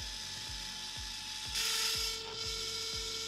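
A Canon Ivy portable photo printer runs close up through a print, its mechanism making evenly spaced ratcheting clicks about twice per second under a steady motor whir, with a brief brighter whoosh partway through.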